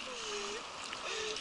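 Broadband rushing water of a wave splashing against a boat on a river rafting trip, steady and close, with brief voices under the noise.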